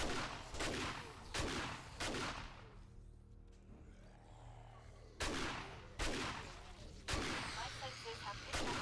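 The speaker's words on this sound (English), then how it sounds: "Little stealth shotgun shot to the face." Shotgun blasts in the survival game 7 Days to Die boom out one at a time, several loud, spaced shots with a quieter lull between them.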